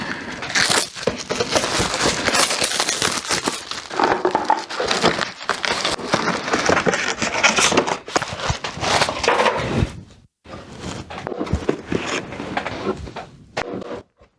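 Plastic packaging being cut open by hand, a steady run of close crinkling, snipping and crackling that fills most of the stretch, pausing briefly near the end before a last few handling rustles.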